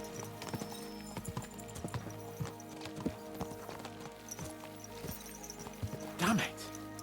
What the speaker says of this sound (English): Let's really spur these horses on